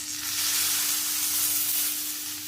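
A spoonful of oil sizzles beside a ragi flour breakfast cooking in a pan, a steady, close frying hiss that holds evenly throughout with a faint low hum underneath.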